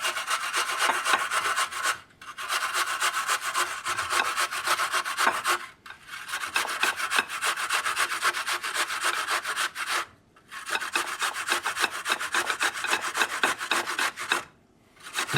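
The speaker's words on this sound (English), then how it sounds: "A typical box grater, we're going to use the large edge of it." Repeated rasping strokes on the large holes of a metal box grater, steady and close, each pass a few seconds long with brief pauses between strokes.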